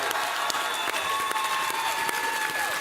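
Audience applause with cheering fills a large live showcase hall during a Kingdom Hearts presentation, a steady dense wash of clapping throughout, with a faint whistle tone over it.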